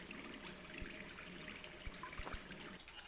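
Tap water running in the video game Gone Home, a steady soft trickle with a few faint knocks, quiet and continuous.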